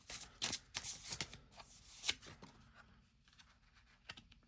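Tarot cards being shuffled close up, a run of quick papery riffles and flicks that thin out into a few soft taps.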